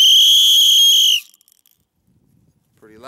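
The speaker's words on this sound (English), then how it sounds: "Now let's hear this whistle." A UST 5-in-one survival tool's whistle gives one loud, shrill, sustained blast of about a second that cuts off sharply, followed by near silence and a voice starting at the end.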